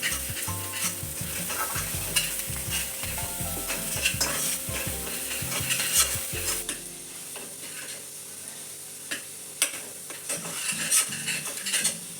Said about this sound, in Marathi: हा मसाला असा छान भाजून घ्यायचा